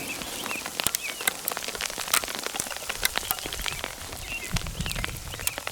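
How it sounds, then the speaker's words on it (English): Dense, rapid patter of hail striking surfaces all around during a spring bear hunt in Oregon's Blue Mountains, steady and fairly close, with no voices. "we're getting pelted with hail right now."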